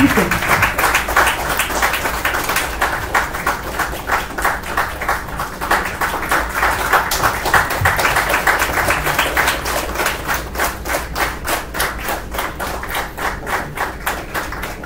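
A large audience at a hackathon grand finale in Bangalore applauding during an on-stage felicitation, loud sustained clapping for about fifteen seconds that settles into a faster, more uniform rhythmic beat toward the end.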